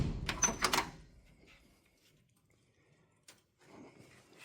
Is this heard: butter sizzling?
no